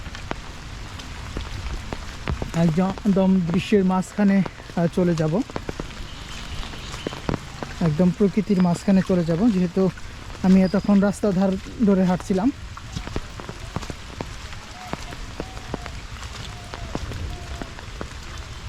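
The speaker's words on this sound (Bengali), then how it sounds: "অনেক দিন পর কিন্তু এরকম একটি প্রশান্তির বৃষ্টি সেটি কিন্তু নেমেছে" Heavy rain falls continuously in a green village landscape, a constant close hiss of drops under a voice talking in bursts.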